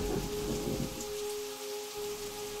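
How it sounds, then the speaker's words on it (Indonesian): Steady rain pours down as a radio drama effect, a dense hiss of drops hitting surfaces. A soft rumble underneath could be distant thunder. "Sore itu hujan pun turun"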